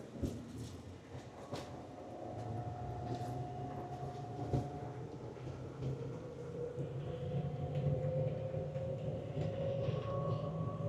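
A steady rumble of an airport tram in motion at Las Vegas Harry Reid International Airport, with rolling wheel noise and a faint rising whine, heard from inside as it travels along.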